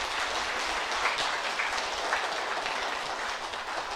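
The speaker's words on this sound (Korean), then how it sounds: "송 목사님을 우리 교회에 보내주신 하나님께 우리 영광의 박수 한번 보내드릴까요" A church congregation applauds continuously, a dense, even wash of clapping from a sizable crowd in a sanctuary that fills the whole moment without speech.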